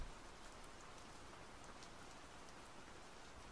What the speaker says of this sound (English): rainy days like this